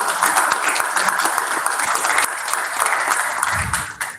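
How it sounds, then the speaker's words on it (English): An audience at a national agri-business startup summit claps steadily and fairly loudly throughout, a dense even patter that fades at the very end. "So a big round of applause to them."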